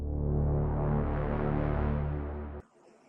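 A sustained, thick synth chord with swirling, sweeping tonal movement and echoing texture, loud and steady, cutting off abruptly near the end.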